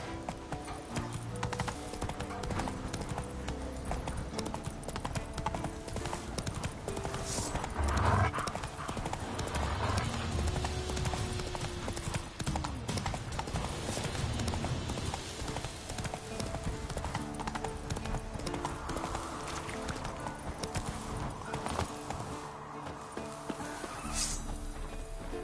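Roach, a horse in the video game The Witcher 3, trots with a steady, continuous clip-clop of hooves over a dense game soundscape that lasts the whole stretch.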